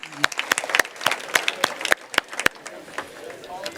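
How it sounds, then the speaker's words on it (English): Symposium luncheon audience gives a round of applause: sparse, distinct claps in an irregular rhythm, fairly close and fading toward the end. "And one more round of applause for Simon Groot, Molly Jahn."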